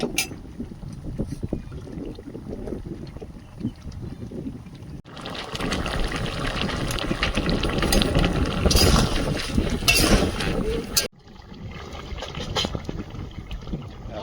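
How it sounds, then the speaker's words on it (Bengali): Strong wind buffeting the microphone in gusts while cooking over an open fire outdoors, with a loud roaring stretch in the middle and sporadic light clinks around it. "জোরে হাওয়া হচ্ছে আগুন বাইরে চলে আসছে"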